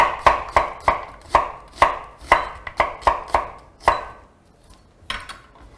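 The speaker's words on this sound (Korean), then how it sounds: "Slice the onion and put it in the pot." A knife slices an onion on a cutting board in a Korean kitchen, about a dozen crisp chops landing in a quick, uneven rhythm, loud and close, then a short pause and one last softer cut; no one speaks.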